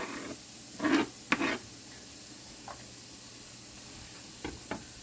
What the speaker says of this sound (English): then we're going to give it a nice big stir.